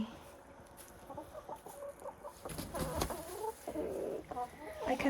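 Chickens and a rooster cluck and murmur together in a coop being readied for freezing weather, the rooster's comb showing cold damage; the clucking runs steadily and moderately close, with brief busier bursts toward the end.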